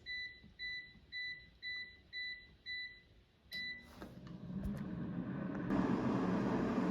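An air fryer beeps as its temperature and time are set, a run of seven short, evenly spaced electronic beeps, then a final beep before the fan starts up with a steady whooshing hum.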